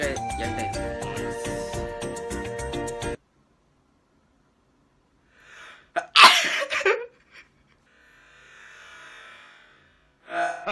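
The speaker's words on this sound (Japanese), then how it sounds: "今回はね、くしゃみを、目を開けたまま、やってみようかなと思います" A man attempts to sneeze with his eyes held open, giving one explosive close sneeze with a sharp breath before it, after music cuts out, followed by brief faint sounds.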